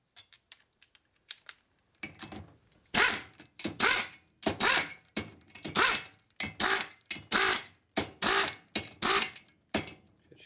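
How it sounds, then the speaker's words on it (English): Torque wrench tightening the top end of a 1958 Harley-Davidson panhead 74ci engine: quiet mechanical taps, then a run of loud, close, evenly spaced ratcheting clicks in short repeated pulls. "now we're going to torque"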